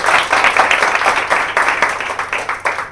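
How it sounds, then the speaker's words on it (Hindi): Worshippers at a church gathering clap together in a quick, fairly regular rhythm, close and loud, for a few seconds without talk. "एक बार आप जोर से ताली बजाएं।"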